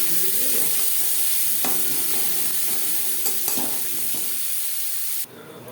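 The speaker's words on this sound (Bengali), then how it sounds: "পেঁয়াজ ভেজে নেব।" Onions and two green chillies frying in mustard oil, a steady close sizzle with soft scrapes of stirring throughout, cutting off abruptly near the end.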